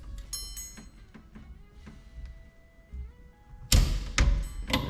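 Metallic ticks and clicks from a torque wrench tightening the steering wheel center nut on a 1979 Ford Bronco, followed by a few louder clunks near the end, with no talk.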